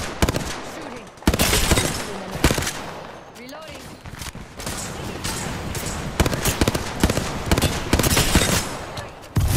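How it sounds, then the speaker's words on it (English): Apex Legends gunfire, loud close bursts of rapid shots in irregular volleys across the whole stretch, with a short lull in between and talk mixed in. "They're shooting at me."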